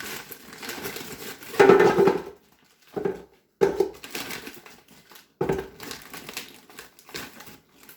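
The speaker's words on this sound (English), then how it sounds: "I'm going to put about half of this bag in here." Scallops tumble from a bag into an air fryer with melted butter and garlic, irregular crinkling of the bag and soft clattering bursts separated by brief pauses, close by and with no speech.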